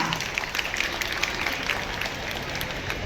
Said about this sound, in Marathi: टाळ्या, जोरदार टाळ्या